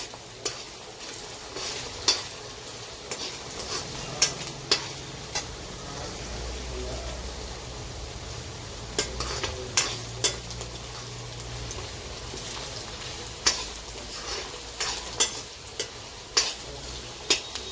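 Curry leaves crackle and sizzle in hot oil in a pan for a dry fish curry, with a steady fry hiss and intermittent sharp clinks of a spoon stirring against the metal.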